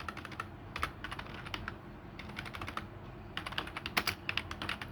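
Rapid, uneven keystrokes on a computer keyboard as text is typed, close and clear over a low steady room hum, with short bursts and pauses and no voices.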